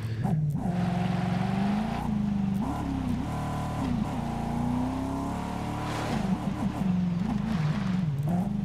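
A dune buggy engine drones steadily while driving off road in Ghost Recon Breakpoint, rising and falling in pitch as it revs and shifts, loud and constant throughout with brief bumps and surges.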